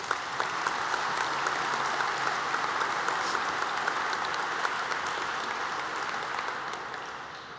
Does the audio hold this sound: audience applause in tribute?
yes